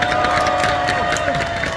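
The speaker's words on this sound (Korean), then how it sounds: "서로에게 힘찬 박수 한번 보내주십시오." A large outdoor crowd at a residents' assembly in a city hall plaza claps and cheers loudly and continuously, a dense wash of hands and voices with scattered shouts.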